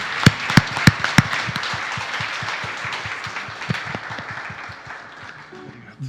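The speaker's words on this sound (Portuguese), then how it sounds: "aplauda o Senhor." A congregation at a Sunday church service claps: several sharp, distinct claps ring out first, then a denser patter of applause fades gradually while a voice talks.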